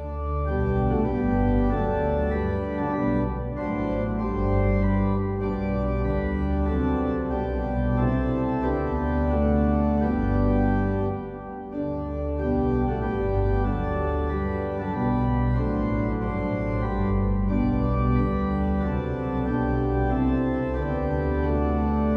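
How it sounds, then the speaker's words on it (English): A traditional American hymn melody in a 1909 arrangement by Daniel Towner plays as a full, sustained organ-like texture, continuous and loud for over twenty seconds with a brief dip near the middle. "it's a traditional American melody arranged by Daniel Towner in 1909."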